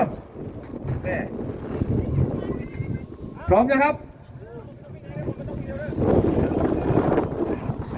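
Strong gusting wind buffets the microphone on an open field at the 34th Isan kite festival in Buriram, where giant kites fly, rumbling loudly and swelling in waves while someone talks over it.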